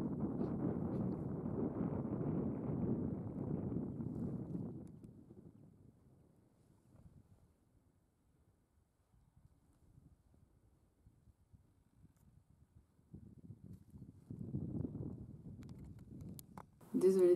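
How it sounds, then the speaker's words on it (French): Outdoor wind buffets the microphone in heavy gusts, fading to a faint rustle before rising again near the end. "mais il y a beaucoup plus de vent."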